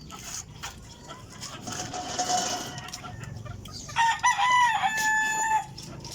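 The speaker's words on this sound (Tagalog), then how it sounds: "pakain tayo sa ating mga alagang manok" Hens cluck and squawk around a yard, then a rooster crows loudly nearby partway through, with other birds calling in the background.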